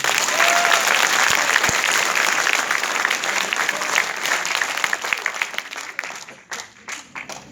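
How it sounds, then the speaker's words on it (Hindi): A hall audience claps steadily in dense, loud applause that holds for several seconds and then thins out into scattered claps at the end. "ताली हो जाए एक बार।"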